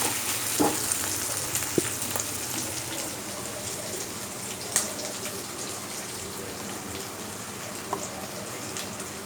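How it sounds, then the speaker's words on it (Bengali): Onions and meat fry in a pan for biryani, giving a steady close sizzle with occasional small pops and crackles throughout. "মাংস পেঁয়াজটা ভাজা ভাজা হইতে থাক"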